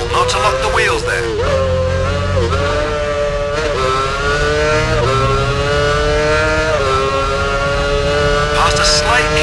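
Formula One car engine from the video game F1 Championship Edition on a lap of Imola, a loud, continuous high-pitched whine rising and falling through gear changes, with a voice talking over it.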